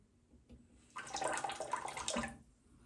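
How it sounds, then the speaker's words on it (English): Water runs from a tap to wet the tip of a styptic pencil during a shave: a quiet, close splash of about a second and a half that rises and stops abruptly. "So what you do is you just wet the tip here"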